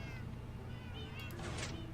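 Several cats meowing in Minecraft, faint high mewing cries overlapping briefly, the last one a bit louder, over a low background rumble.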